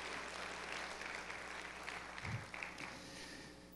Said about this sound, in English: Could we give a hand clap of appreciation for them this evening?